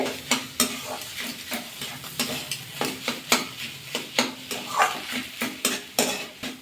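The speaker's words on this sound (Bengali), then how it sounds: "আলুর সাথে ফুলকপিটা ভালো করে মিশিয়ে নিতে হবে" Cauliflower and potato are stirred together in a pan, with repeated scraping strokes of a utensil against the metal at a steady rhythm over a soft sizzle, close and clear.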